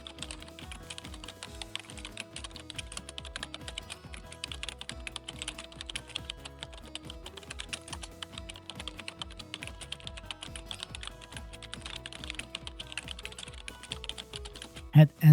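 Fingers type steadily on a computer keyboard, a fast, continuous patter of close, crisp key clicks that runs without pause and ends with a couple of heavier presses.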